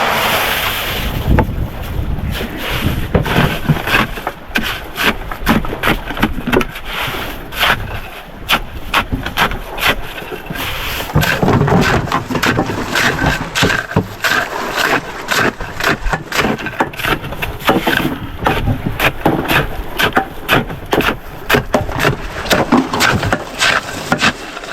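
Small wooden fishing boat out at sea, with a constant rush of wind buffeting the microphone, splashing waves and irregular thumps and slaps against the hull, loud and close throughout.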